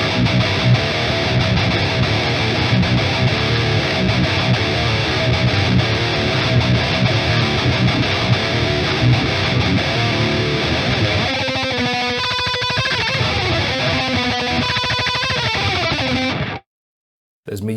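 High-gain distorted electric guitar in drop B tuning played through an amp simulator, a dense, continuous chugging riff that shifts into brighter sustained lead notes near the end, loud and close with no talking, then cutting off abruptly.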